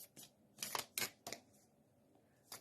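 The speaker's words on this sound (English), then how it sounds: "So let me just shuffle some cards here." Tarot message cards being shuffled by hand, a few quick papery riffles and slaps in separate bursts with quiet gaps between them, close and fairly soft.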